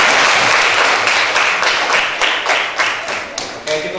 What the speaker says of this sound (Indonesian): Jangan lupa beri tepuk tangan yang mereka